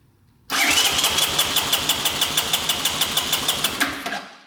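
A Honda three-wheeler engine with the throttle held open cranks loudly on the starter for about three seconds, a rapid rhythmic chugging of compression strokes up close that cuts off abruptly without firing.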